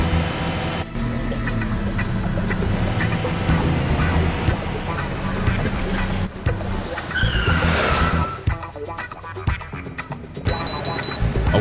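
Cartoon bus skidding hard while fleeing along a highway, a loud screeching tire squeal amid a busy, dense mix of engine noise and effects, with a sharp swell of screeching near the end.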